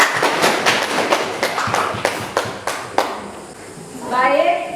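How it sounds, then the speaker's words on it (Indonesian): Classroom applause for a student group that just presented, a burst of scattered claps from a small crowd over the first three seconds, thinning out, then quiet room noise and a faint voice. "Kasih aplaus untuk kelompok ini."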